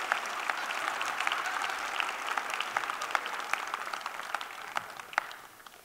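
A church congregation applauding, a full and steady patter of many hands clapping that carries on evenly and then fades slightly at the end.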